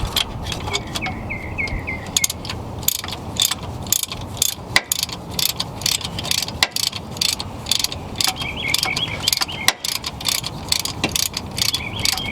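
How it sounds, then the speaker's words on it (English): A ratchet loosens the last rear bolt on a Toyota 2JZ air-conditioning compressor, producing rapid, crisp clicking bursts up close in an uneven rhythm of short strokes with brief pauses, and no voices. "So I'm gonna go ahead and loosen up that last bolt in the back."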